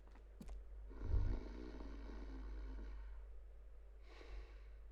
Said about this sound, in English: I hear snoring.